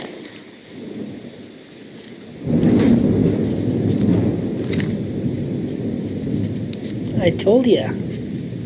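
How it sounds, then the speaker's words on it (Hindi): Loud thunder rumbles over steady rain during a storm, growing heavier partway through with a brief crackle near the end; a voice speaks a few words over it. "बहुत ज़ोर से बादल गरजने वाला है।"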